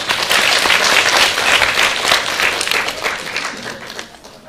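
Audience applause at a debate on local election policy, a loud, dense burst of clapping that fills the room and gradually tapers off.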